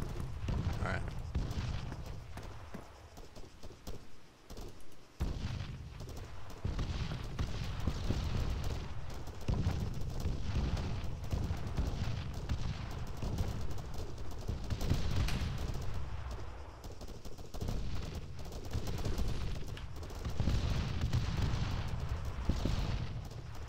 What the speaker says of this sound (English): That's some heavy mortar attacks.